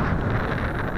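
Steady wind gusts buffet the microphone beside a lake on a blustery day, a continuous low rumble and roar with no talking, close and fairly loud throughout.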